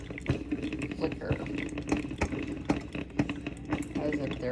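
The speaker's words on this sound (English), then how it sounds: "Just running filtered water" Gevi 10-cup drip coffee maker with built-in burr grinder running filtered water on a first test, giving a steady bubbling, gurgling hiss with scattered clicks and ticks throughout at moderate distance.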